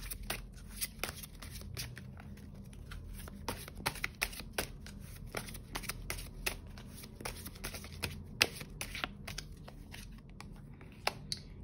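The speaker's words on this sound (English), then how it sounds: "Let me just pick one more card." Tarot cards riffle and flick in a rapid, uneven run of crisp papery snaps over a low steady background hum, with no voice heard.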